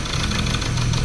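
A Ford Ranger 2.2 diesel engine running rough with an injector disconnected, a loud, close, uneven rumble with a rapid knocking pulse throughout.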